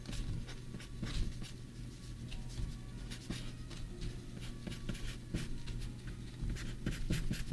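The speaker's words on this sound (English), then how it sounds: "Hopefully you're sketching something with me as well," A pencil sketches on paper in steady scratchy strokes with short repeated bursts, close and fairly quiet, with no talking.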